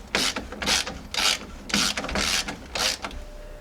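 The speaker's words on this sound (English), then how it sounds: "Now we'll finish tightening up over here on the axle side." A ratchet tightens the tie rod nut on the axle side of a Jeep Grand Cherokee ZJ tie rod upgrade, heard as six loud, evenly spaced bursts of clicking, one stroke after another.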